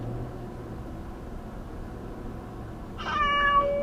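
A cat meows once, fairly close and clear, near the end after a few seconds of quiet low background hum.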